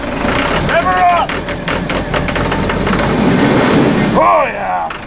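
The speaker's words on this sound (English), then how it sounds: "Give her some juice. Rev her up." A diesel expedition vehicle's engine runs and revs with a steady rumble that swells and holds, while voices call out over it.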